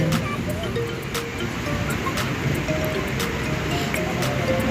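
Steady rushing surf fills the background, a constant wash of breaking waves heard from nearby on a lakeshore in Taguig, with faint intermittent clicks over it.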